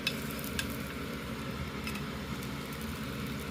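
Plain dosa batter sizzling quietly on a hot pan, a soft continuous frying hiss with a faint low hum beneath and no speech.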